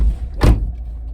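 A car's power window opening, a short whirring motor sweep over a low idle hum, close and loud, heard once in a hot parked car.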